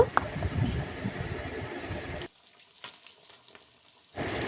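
Fish fries in hot oil with a dense crackling sizzle for about two seconds, then drops to near silence with faint scrapes before the frying hiss returns.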